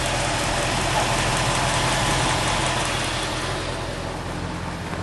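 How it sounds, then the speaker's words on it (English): A 1972 Ford F-100 pickup's carbureted engine idles steadily up close, a continuous low rumble with a faint ticking texture and no talk over it. "So she's idling pretty good today."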